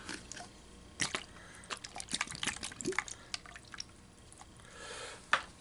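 Water being emptied out of a plastic snuffer bottle while panning gold pay dirt: a series of close, irregular drips, squirts and small splashes with quiet gaps between them, ending in a louder gurgling spurt.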